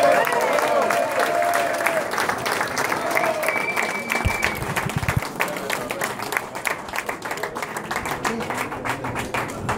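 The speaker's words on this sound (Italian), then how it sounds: "je vous demanderai de l'applaudir" An audience at a Vespa scooter club rally in Port Grimaud claps steadily in loud, sustained applause, with a voice briefly audible over it.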